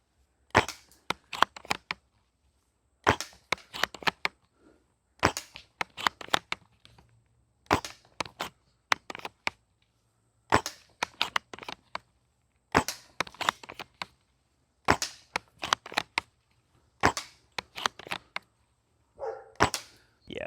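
Silverback SRS airsoft sniper rifle with an M4 magazine adapter fires a steady series of sharp, snappy shots, about nine evenly spaced bursts with brief bolt-cycling clatter between them, close and clear with no talking.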